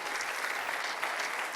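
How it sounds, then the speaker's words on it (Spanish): A church congregation breaks into louder applause at a Spanish-language worship service, a thick continuous wash of clapping from many hands, strong and steady throughout. "Él se merece un aplauso más fuerte que eso"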